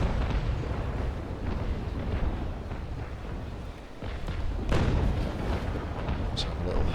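Ship cannon fire in the naval video game Naval Action, heard as distant muffled booms within a rumbling battle ambience during a shallow port battle, with a sharper report near the end.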